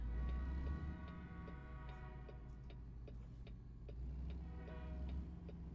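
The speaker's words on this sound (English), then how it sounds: "I hear a train." A train passes in a truck driving game set on an Illinois map, a steady low rumble with a horn-like tonal drone and regular ticking clicks, moderately loud and continuous throughout.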